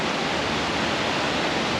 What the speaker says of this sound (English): Oh wow, look at that waterfall